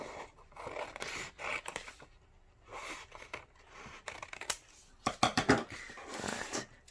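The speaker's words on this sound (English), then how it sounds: "I'm going to cut this edge here with my scissors" Scissors cutting through folded paper during Chinese New Year paper cutting, a series of short crisp snips and rustles in irregular bursts, close and fairly quiet.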